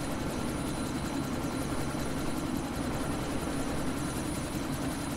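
A video game helicopter in Deus Ex: Mankind Divided gives a steady, low rotor-and-engine drone that stays even and unbroken throughout, with no voices over it.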